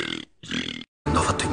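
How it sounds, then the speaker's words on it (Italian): A person burps in three loud, drawn-out belches separated by short silences, close to the listener, with no speech between them. "So ruttare l'alfabeto!"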